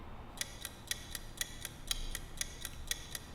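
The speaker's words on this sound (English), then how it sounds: "But let's add the ticking a little bit longer." Ticking clock used as a sound-design effect: crisp, evenly spaced ticks at a steady rhythm, about four per second, clear and close over a faint background hiss.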